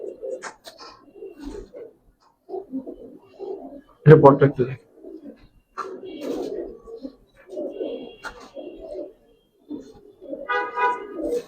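Pakistani high flyer pigeons at a farm give soft, low cooing calls in short repeated bursts, close by and moderately loud, with people talking over and between the coos and one sharper rustle or flap midway.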